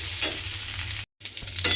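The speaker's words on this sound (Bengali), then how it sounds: "এবার আলুগুলোকে একটু লাল করে প্রথমে ভেজে নিতে হবে।" Potatoes frying in a pan for a vegetarian chickpea dish, giving a steady sizzle with stirring scrapes, close and fairly loud, broken by a brief silent gap.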